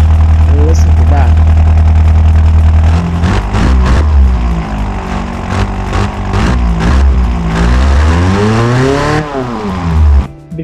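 A maxed, racing-tuned Ford Model T-style engine simulated in the Automation game, idling loudly at first and then revving repeatedly, its pitch sweeping up and down before cutting off.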